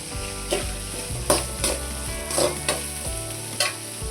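Curry leaves frying in a pan for Tamil vatha kuzhambu, giving a steady close sizzle with a few sharp crackling pops and stirring scrapes scattered through, no voices.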